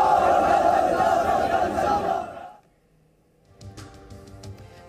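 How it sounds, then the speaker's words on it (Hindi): A large protest crowd in Udaipur loudly chants the slogan 'sir tan se juda' in unison, the massed voices cutting off abruptly midway, followed by quieter scattered crowd noise and background sounds. "उदयपुर में सर तन से जुदा का नारा लगाती हुई भीड़ को देखा भी और सुना"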